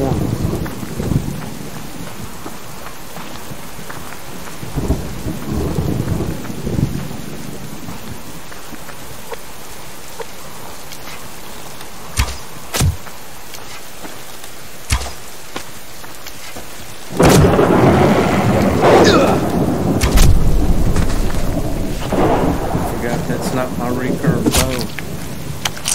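A thunderstorm with rain in the survival video game Subsistence: steady rainfall hisses throughout while sharp thunder cracks strike several times, followed by a heavier, louder rumbling burst near the end, with someone speaking briefly.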